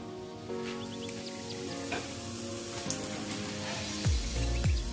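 Whole cumin seeds sizzling in hot oil in a wok, a steady crackling fizz with soft spattering pops, close and even throughout, with a couple of heavier low bumps near the end and no voice over it.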